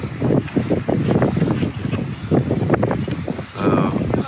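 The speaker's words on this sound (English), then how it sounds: "By the water, and it's very windy." Strong wind off the water near a lighthouse in Escanaba, Michigan buffets the microphone in loud, continuous rumbling gusts throughout.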